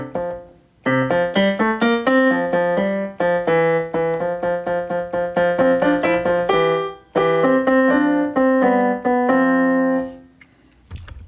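A fugue written for men's chorus is played at a slow tempo with two parts sounding together, as steady sustained chords that move note by note, loud and close, ending in a fading held tone.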